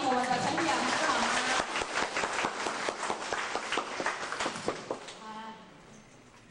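Applause welcoming a lecturer at a health talk in a temple hall spreads through the audience for several seconds. It rises out of speech at the start and thins to scattered claps as talking resumes.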